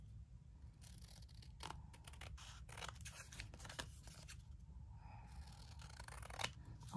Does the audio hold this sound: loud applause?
no